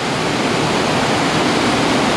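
Bald River Falls near Tellico Plains, Tennessee, roars as a dense, steady rush of falling water, loud and close, with no voices over it.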